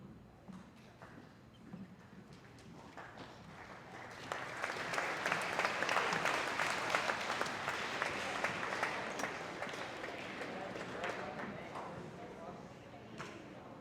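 Audience applause at a middle school moving-on ceremony, a crowd clapping that swells to a sustained roar of many hands and stays steady before easing slightly, with voices over it.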